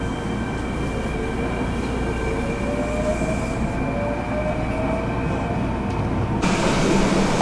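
A Kintetsu express train runs near Yamato-Saidaiji in Japan with a steady, loud rumble of wheels and car noise, and faint high wheel squeal rises and fades throughout, with no voices.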